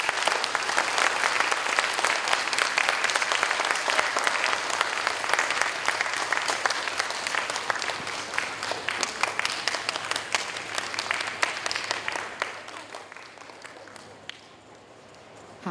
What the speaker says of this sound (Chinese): 加倍的掌声来欢迎我们今天表演的孩子们还有学姐们